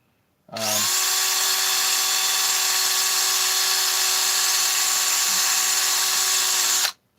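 A machined engine base, lathe-cut and fresh from an ultrasonic cleaner, being polished to a shine with a power tool: a steady, high-pitched whine that starts abruptly, holds evenly for about six seconds, then cuts off.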